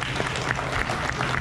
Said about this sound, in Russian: Аплодисменты Варечке.